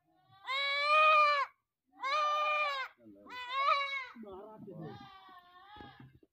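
Two-month-old goat kids bleat loudly while receiving an ivermectin injection, four or five long wavering cries in a row, close to the microphone, with faint handling noise between them.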